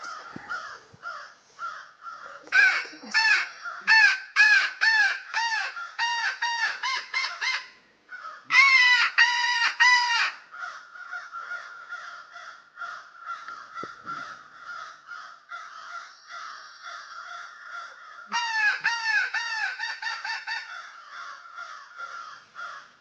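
Several crows caw loudly in repeated bursts of harsh calls, with brief pauses between rounds, close by and without talk.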